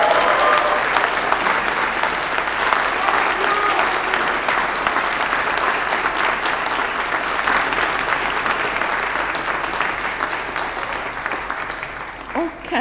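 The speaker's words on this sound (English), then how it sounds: "Can you give your families a massive round of applause" A graduation audience applauds families and supporters in a large hall, a dense, steady round of clapping that stays loud for over ten seconds before slowly thinning at the end.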